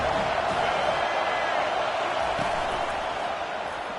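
Stadium crowd in College Football 25 on PS5 rising behind the defense on third down, a loud, continuous roar of cheering that holds steady throughout.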